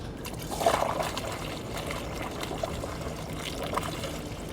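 Water pours from a big can into a funnel during a Ford Next Gen Ranger snorkel installation test, a steady close splashing trickle with a few louder gulps and no talk.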